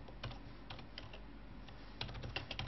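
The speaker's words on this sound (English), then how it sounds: "you type again" Typing a terminal command on a computer keyboard, scattered close key clicks with a brief pause, then a quicker burst of keystrokes at the end.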